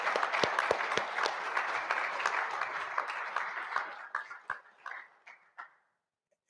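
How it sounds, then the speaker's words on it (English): Audience applause at a US Army Corps of Engineers Mobile District change of command ceremony: a dense, steady burst of many hands clapping with a few sharp nearby claps, thinning into scattered claps before fading to silence. "please join me in a round of applause for these three amazing, long-tenured, selfless servants"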